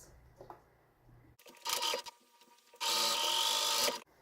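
A sewing machine stitches across fabric in two bursts, a short run and then a longer steady one, close and loud with a rapid mechanical whir, separated by a quiet pause with light handling.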